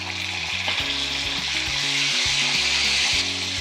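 Tomatoes with curry leaves and fenugreek seeds fry in a hot pan with a loud, continuous close sizzle, while rhythmic low clatter sounds beneath it the whole time, no voices.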